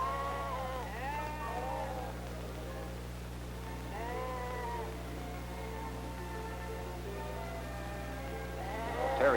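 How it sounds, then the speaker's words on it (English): Sheep from a small herd being worked by a herding dog bleat several times in separate calls spread across the stretch, moderately close over a steady low hum. "she's going to practice with this small herd of sheep"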